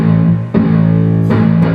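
Metal-style palm-muted guitar strumming with the pinky muting the strings, played through a distorted amp at a workshop; two sustained, thick chugging chords, loud and close, with no talking.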